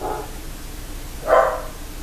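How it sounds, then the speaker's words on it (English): A dog barking from downstairs, muffled and distant: two short barks about a second apart against a quiet indoor background. "My dog's going crazy downstairs."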